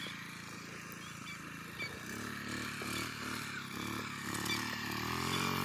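An engine with a worn-out, smoking condition is revved repeatedly, giving rough rising and falling surges with some clattering, close by and moderately loud.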